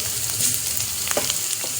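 Chopped onions sizzle steadily in hot oil in a pan, with a spoon scraping and stirring through them in a few close, brief strokes.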